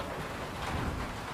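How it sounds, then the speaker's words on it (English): Hail pounding a house roof in a roofing advertisement, a steady dense broadband clatter like heavy rain drumming on a surface, loud and continuous throughout with no talk. "Looks like hail."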